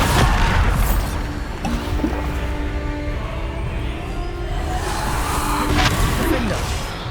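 Bombarda explosion spells in the video game Hogwarts Legacy, a loud, sustained booming and crashing that rumbles on for several seconds with bursts layered over one another amid busy game sound.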